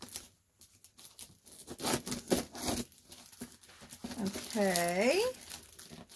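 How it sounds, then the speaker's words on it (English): Scissors and rustling plastic or paper as mail packaging is cut open, crinkling and snipping up close, with a person talking briefly and a higher squeaky sound near the end. "Let me cut this a little better."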